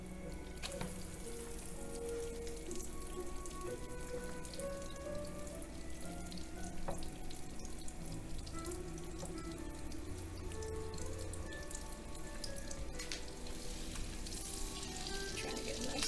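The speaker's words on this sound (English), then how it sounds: "Sizzle on that." Chicken cutlets sizzling in a skillet, a steady dense crackle and hiss throughout, faint and without speech.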